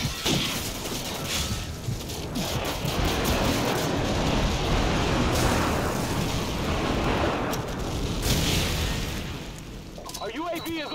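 Airstrike explosions rumble through a Call of Duty 4: Modern Warfare multiplayer match, a dense, continuous roar of booms and blasts lasting several seconds, with game voices heard over the din.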